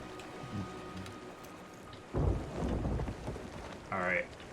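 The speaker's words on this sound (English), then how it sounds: "because that storm's coming in" A thunderstorm rolls in during the pirate video game Sea of Thieves, with steady rain and wind under a loud rumble of thunder midway. Voices talk faintly over the storm.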